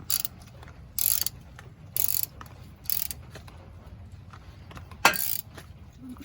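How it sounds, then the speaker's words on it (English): A hand ratchet loosening long bolts on a Nissan's AC system, heard as several bursts of quick clicking ratchet strokes spaced about a second apart, close and fairly quiet, with no talking. "Once you break those free, they should easily ratchet out."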